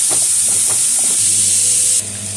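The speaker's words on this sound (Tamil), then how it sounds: "ஒரு வெங்காயம் நைஸாக கட் பண்ணி வச்சுருக்கேன், அதை போடுறோம்." Finely chopped onion hits three tablespoons of hot oil, giving a loud, steady hiss and sizzle close by, with soft clinks early on and no talk.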